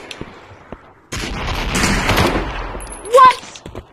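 Gunfire from the VR shooter game Aim XR: a dense, sustained burst of shots starts abruptly and runs under a player's speech, with a sharper, louder report near the end.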